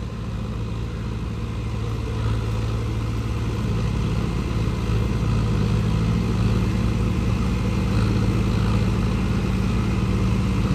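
Tractor engine running steadily, a large 120 hp machine working a flooded paddy field during puddling, with a continuous loud low rumble throughout and no talk.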